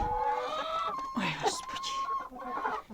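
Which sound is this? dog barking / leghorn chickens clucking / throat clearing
leghorn chickens clucking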